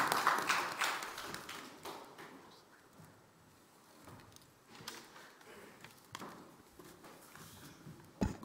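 An audience at a public health and ecological restoration event claps in scattered, uneven bursts. The applause is faint and distant, with irregular sharp claps and no steady rhythm.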